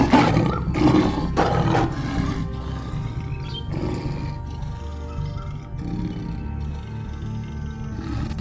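A lion roars loudly and close in a series of deep, rumbling bursts that fade into a lower growling rumble, with no talk.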